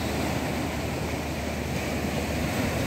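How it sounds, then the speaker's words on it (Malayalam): Sea waves break along the shore at Vizhinjam port in a constant loud wash of surf, with a wind rumble and no talk. "തിരമാലകൾ അടിച്ചു കൊണ്ടിരിക്കുന്നു."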